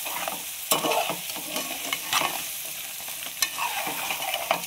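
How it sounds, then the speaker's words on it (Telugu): A ladle stirring crab fry with garam masala in a pan, giving scraping strokes at irregular intervals over a steady sizzle of frying, with no voices. "ఒకసారి తిప్పుకుందాము గరిటతో."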